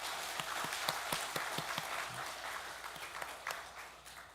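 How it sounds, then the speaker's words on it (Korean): A church congregation applauds at the end of a Sunday service, a soft, distant wash of clapping with individual claps standing out now and then, steady for several seconds. "잘 갔다 오라고 박수하겠습니다."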